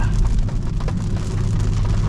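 Steady rain patters on a BMW M340i, a constant dense drumming with a low rumble underneath and no voices.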